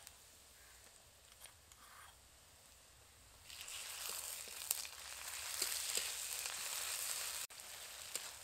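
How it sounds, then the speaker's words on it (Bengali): Ginger and garlic paste frying with browned onion in a pan gives a faint, steady sizzle that swells partway through and continues, with a few small clicks. "আদা রসুনটাকে বেশ কিছুক্ষণ ভালো করে ভেজে নিয়েছি"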